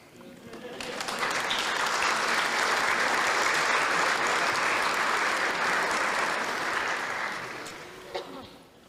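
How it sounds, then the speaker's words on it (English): Wedding guests clap their hands together in a sustained round of applause at a wedding ceremony, a dense crowd sound that swells quickly, holds steady for several seconds, then tapers away near the end. "Anybody agree? Clap hands."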